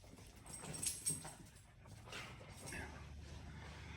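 A corgi puppy whimpers and whines for attention in short, soft bursts close by, mixed with light rustling as she jumps up, under a quiet background.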